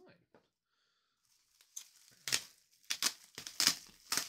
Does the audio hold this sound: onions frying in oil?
no